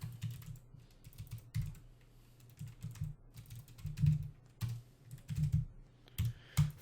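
Soft keystrokes on a computer keyboard come in short uneven bursts with brief pauses between them, close and fairly quiet, and no one speaks.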